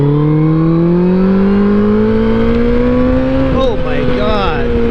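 A 2007 Yamaha FJR1300 touring motorcycle pulls hard in third gear, its engine note climbing steadily and loud up close, then dipping briefly as revs shift before holding again.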